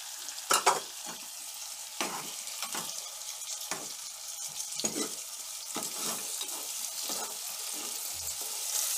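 Onion sautéing in a pan for a spicy Kolhapuri-style crab curry, soft sizzling frying under repeated scraping stirs of a spoon, close and fairly quiet, with no voices.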